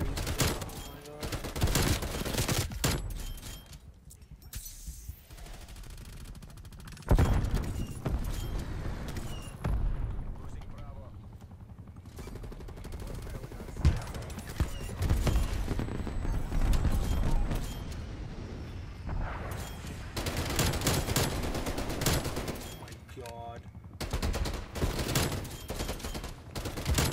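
A TEC-9 submachine gun fires in Call of Duty Cold War: dense, loud bursts of rapid gunfire with booms and mechanical clatter run almost without pause throughout the stretch.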